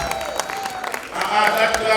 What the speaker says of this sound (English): That clap is not enough for them.